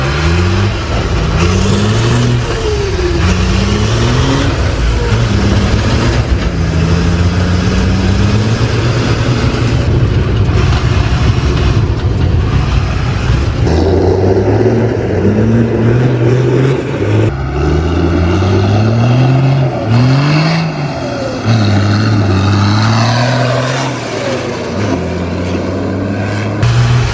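A 600 HP Hummer fitted with snow tracks drives along a highway, its engine droning loud and close throughout with repeated rising and falling pitch sweeps as it speeds up and shifts, no voices over it.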